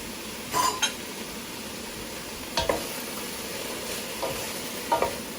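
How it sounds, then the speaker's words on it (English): Cabbage fries in olive oil, a steady sizzle under a handful of sharp utensil scrapes and clinks as it is stirred in the pan. "We're going to add in the cabbage gradually."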